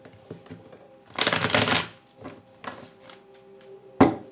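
Tarot cards being shuffled by hand, a burst of rapid riffling and flicking close by, set among lighter taps and handling noises, with a sharp snap near the end.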